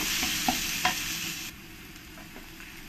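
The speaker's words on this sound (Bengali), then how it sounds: "দিয়ে ভালো করে রসুনটাকে আমি লাল লাল করে ভেজে নেব" Crushed garlic fries with onions in a pan for a mutton curry, sizzling steadily while a spoon stirs with a few sharp scrapes.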